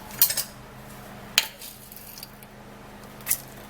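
A spoon scoops dry oatmeal, giving a few brief metallic clinks and scrapes against a container over a quiet background, no voices.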